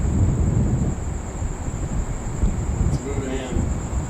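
Distant thunder from an approaching monsoon thunderstorm near Las Vegas rolls as a low, continuous rumble, blended with steady wind noise and faint background voices.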